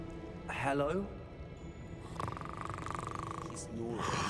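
A goblin snoring in the video game Hogwarts Legacy, slow rumbling snores heard in quiet stretches between game sounds, with voices talking over parts of it.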